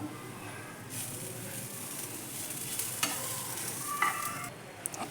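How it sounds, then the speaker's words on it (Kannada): Grated coconut and turmeric powder dry roasting in a pan for coastal-style chicken curry, a soft, steady stirring scrape and faint sizzle with a few light clinks near the end. "ಒಂದು ತೆಂಗಿನಕಾಯಿ ಪೂರ್ತಿ ಹಾಕೋತಾ ಇದ್ದೀನಿ ಇದು ಕೂಡ ಡ್ರೈ ಆಗಿ ಹುರ್ಕೋಬೇಕು"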